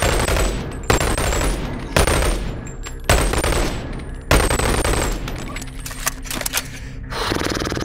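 A sentry turret in the video game Boneworks fires long, loud, dense automatic bursts, close and relentless, broken by a few short pauses before shots thin out near the end.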